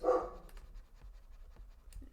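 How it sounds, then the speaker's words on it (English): A dog barks a few times indoors, with a short burst up front and fainter yips and pants after, fairly close but not loud. "sorry that my dog is barking."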